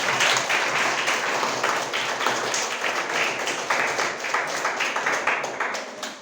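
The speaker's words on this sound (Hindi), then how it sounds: "मैं चाहता हूं कि आप अपने लिए एक बार जोरदार ताली लगाएंगे" Students clap together in a school classroom, a dense, steady patter of many hands that stays loud for about six seconds with little variation, with no voices on top.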